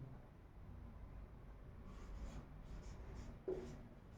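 Writing on a board during a class, with soft scratching strokes at low volume, a few brief pen taps and one sharp knock near the end, and no talking.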